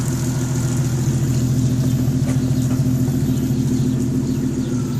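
A Jeep 4.0 engine idles steadily with a MagnaFlow muffler and an exhaust leak, a loud, close, even low rumble with rapid ticking pulses throughout and no talking.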